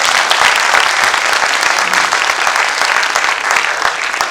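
Sustained audience applause after a children's theatre performance, dense and steady clapping from a full hall throughout, without speech.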